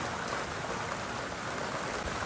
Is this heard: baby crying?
no